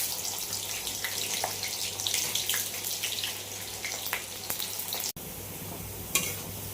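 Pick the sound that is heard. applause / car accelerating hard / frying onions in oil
frying onions in oil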